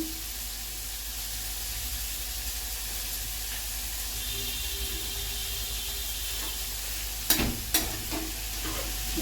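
Butter sizzles in a pan with spiced masala sweet corn, a steady soft frying hiss throughout, with a few sharp clinks and scrapes of stirring near the end.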